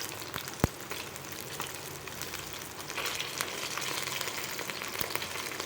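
Chicken 65 frying in a pan as pieces are flipped, a steady close sizzle with a sharp clack near the start and intermittent spatters, growing slightly louder toward the end.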